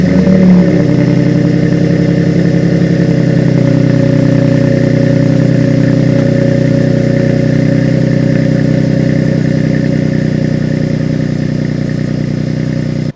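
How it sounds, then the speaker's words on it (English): Ford F150 XL 3.3L V6 with a FlowMaster 40 series muffler idling after a cold start on a foggy day, a steady, loud, deep exhaust drone holding even throughout. "let's go ahead and listen to the cold start for the F150"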